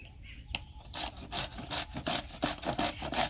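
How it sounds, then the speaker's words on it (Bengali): A bottle gourd (lau) is rubbed back and forth over a grater into fine shreds, making rhythmic rasping scrapes that repeat steadily, loud and close, with no talk. "তো এই লাউটাকে মা এখন এই যে ঘষলে একদম কুচি কুচি হবে"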